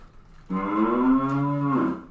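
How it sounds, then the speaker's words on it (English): A cow moo played from a soundboard: one long, loud, drawn-out low call that starts abruptly after a brief quiet moment and holds steady before trailing off. "there's a cow sound on here"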